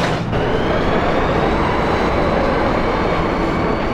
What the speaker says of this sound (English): This train bound for East Academy will depart shortly.